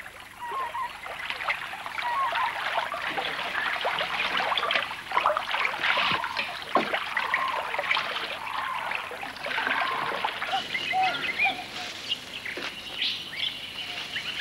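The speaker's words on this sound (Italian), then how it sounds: "troviamo una sorgente d'acqua" A water spring trickles in a long, narrow, deeply shaded valley on Bigge Island, Western Australia, a soft continuous splashing dribble with birds chirping over it.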